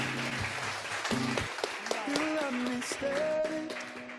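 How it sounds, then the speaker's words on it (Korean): Applause from a meetup audience, with voices and tonal background music running through it alongside the clapping. "박수 크게 부탁드리겠습니다"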